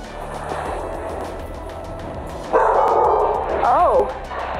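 A pet dog barks and yips a few times indoors in the late part, fairly close, over a steady background hum.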